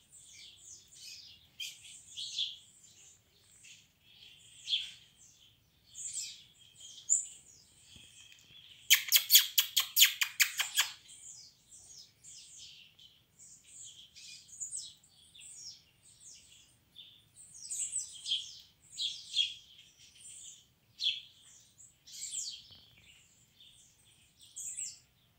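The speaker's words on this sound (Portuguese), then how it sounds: "mostrando os passarinhos que eu cativo aqui no meu quintal" Small backyard birds chirp and tweet in scattered short calls throughout, with a brief rapid burst of louder chirps in the middle; fairly faint and moderately near, no talking.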